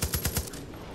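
Rapid burst of automatic gunfire in the Far Cry 5 video game, about four quick close shots in a row, then a fading tail.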